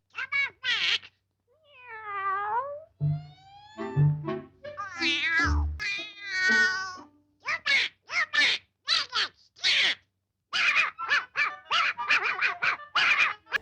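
A cartoon black cat meows repeatedly in a vintage Donald Duck short, its cries interleaved with Donald's quacking voice and other squawks, loud and close in quick bursts with brief pauses.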